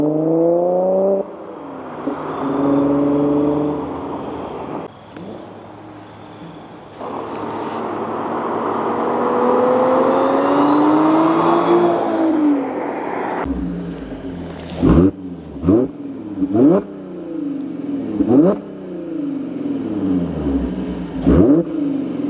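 An Audi B8.5 S5 fitted with an AWE Touring exhaust revs up through several long, rising pulls. These are followed by a string of sharp, quick throttle blips, each falling off fast. The exhaust sounds close and loud, with no speech.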